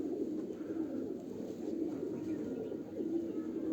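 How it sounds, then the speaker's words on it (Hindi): Pigeon of the Sultan Tedhi breed with Sialkoti-type feathering, giving a steady low cooing murmur against a soft, continuous background, moderately close and alone without talk. "ये कबूतर जो मैं आपको दिखा रहा हूँ ये पर सुल्तान टेढ़ियों में पड़ा है।"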